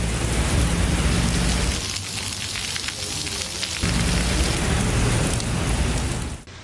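Heavy rainstorm in Islamabad, a loud, dense roar of pouring rain that dips slightly in the middle and then surges back, with low rumbling underneath.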